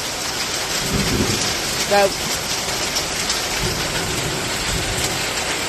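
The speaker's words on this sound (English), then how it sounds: "I'm stuck in the chicken coop in the middle of a rainstorm" Heavy rain drums steadily on a chicken coop during a thunderstorm, with a low rumble of thunder beneath the downpour and a brief short word spoken partway through.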